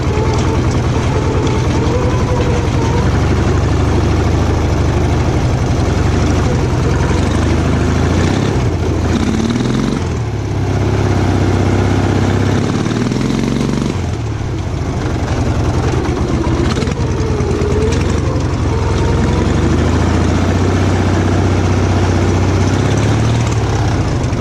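Off-road tractor engine running loud and close for the whole stretch, a heavy, steady low drone with brief dips in revs around the middle, no talking.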